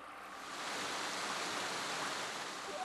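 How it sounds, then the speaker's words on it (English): Glacier-fed Butakovka River rushing steadily, a dense, continuous broadband roar of flowing water with no voices, swelling slightly at first and then holding constant. "If you listen to the sound of a river, you will hear its peculiar melody."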